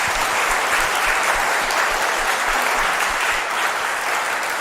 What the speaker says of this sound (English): If you give a round of applause.